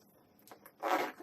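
A zipper is drawn closed along a stuffed fabric nursing pillow, a short close rasp after a few faint handling clicks.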